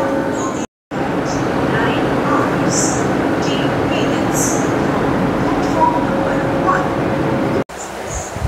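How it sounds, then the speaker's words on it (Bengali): A WAP-7 electric locomotive hauls the Shalimar–Puri Dhauli Express, giving a loud, steady rumble of rolling rail noise that fills the whole stretch, with someone talking over it. "ধৌলি এক্সপ্রেসের আজকের লোকোমোটিভ ওয়াক 7 30584 ওয়াক 7 হচ্ছে আজকের লোকোমোটিভ ধৌলি এক্সপ্রেস।"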